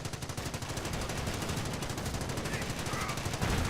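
Dense, continuous gunfire in the World War II strategy game Company of Heroes, rapid overlapping bursts of machine-gun and rifle fire, loud and unbroken throughout with no pause.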